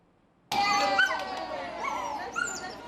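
A dog riding in a pet-only car on the Taipei Metro whimpers and yips after a brief silence, whining close by in uneven bursts with some background voices.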